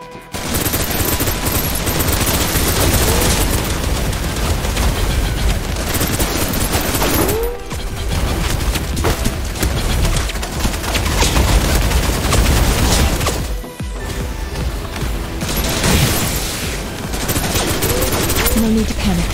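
Sustained suppressive gunfire in the video game Snowbreak: Containment Zone, dense continuous bursts of rapid shots and booms filling the scene, loud and close, with brief pauses and voices underneath.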